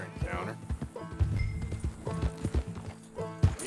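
Horse hooves clip-clopping in the Red Dead Redemption 2 video game, a steady rhythmic trot close by, with game voices talking over it.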